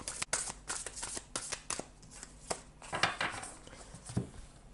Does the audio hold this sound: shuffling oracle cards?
yes